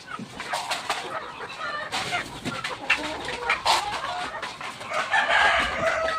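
Chickens cluck and squawk close by while a rooster crows loudly, a busy farmyard chorus with no talking.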